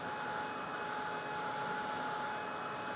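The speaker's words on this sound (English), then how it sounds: "I'm going to do another pass here with the blow dryer" A handheld blow dryer runs steadily while drying watercolor paint and masking fluid on a painting of concrete bricks, a constant close airy whir with a faint high whine and no talk.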